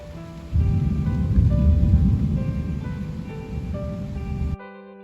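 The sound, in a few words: thunderstorm with rain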